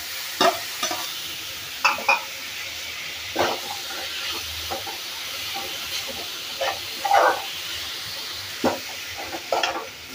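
Grated carrot and capsicum stir-fry in a pan, a steady close sizzle punctuated by repeated scraping and knocking strokes of a spatula at irregular intervals, with no talking.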